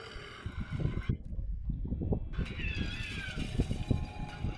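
Cat yowling and meowing in distress while being eaten in the zombie game Dead Island 2, loud and close over gritty growling and chewing noises, with a brief gap partway through.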